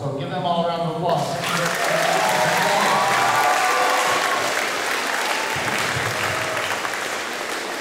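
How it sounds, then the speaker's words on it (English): A crowd at a fifth-grade completion ceremony breaks into steady, sustained applause that fills the room, continuing evenly for several seconds. "So give them all a round of applause."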